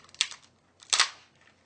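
A boiled lobster tail shell is cracked open in two close, sharp crunches about three-quarters of a second apart, with near silence between them.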